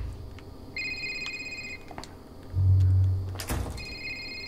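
A wall-mounted telephone in a video game rings in short repeated bursts of a high electronic tone, with a dull thump in between, against a quiet background.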